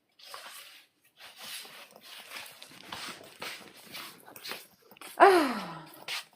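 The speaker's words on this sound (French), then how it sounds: "quand je rentre, il y en a une qui est contente de me voir, c'est ma chienne." A pet dog indoors makes faint, close sniffing and panting bursts, ending in a louder snort-like huff near the end, with no voices over it.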